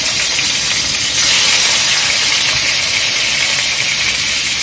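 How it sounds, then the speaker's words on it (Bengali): Hilsa fish pieces rubbed with turmeric and salt frying lightly in a little hot oil, giving a loud, steady, unbroken hiss that swells slightly after the first second, with no voices. "এখন এটা আমি হালকা তেলে হালকা একটু ভেজে নিই"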